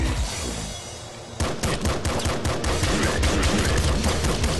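Gunshots in the top-down shooter Nuclear Throne, a rapid stream of sharp, punchy game shots firing in quick succession after a short quieter lead-in, loud and continuous to the end.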